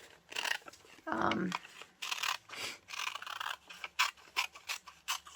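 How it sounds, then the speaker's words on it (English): Large scissors cut through catalog paper in long strokes, giving repeated crisp snips and slicing rasps of varying length, interspersed with brief bursts of talking. "This is why I don't use small scissors when I cut, because I like those long strokes."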